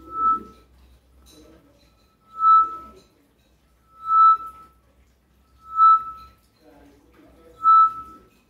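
Five clear, pure whistle notes from a bird-call flute, evenly spaced about every one and a half seconds, with soft breathy sounds and murmured speech between them.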